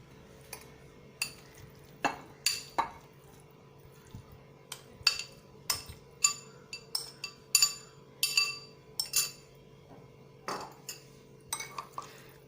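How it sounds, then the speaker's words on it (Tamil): Spoon clinking against a bowl while chicken is mixed into a lime-juice shawarma marinade, a run of sharp, close ticks and taps in uneven bursts over a low steady kitchen hum. "சிக்கன் சேர்த்துட்டோம். இப்போ இதை நல்லா கலந்துக்கலாம்."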